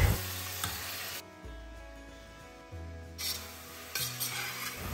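Onion, ginger, green chilli, curry leaves and tomato stirred in a pan, with soft scraping strokes and a faint sizzle of frying that come in short bursts, clear and close with no talking.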